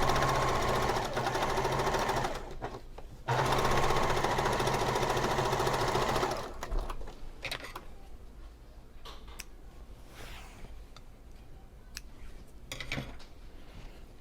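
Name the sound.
sewing machine top stitching a pillow sham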